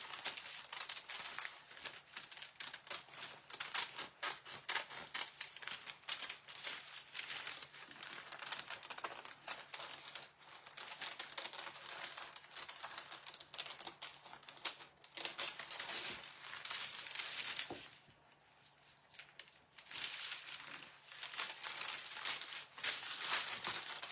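Scissors cut around painted paper designs for inlays: a long, steady run of close, crisp snipping and paper rustling with a brief quieter pause, no talking.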